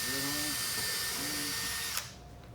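A power drill whines steadily at high pitch, boring a hole for a rivet, then cuts off abruptly near the end.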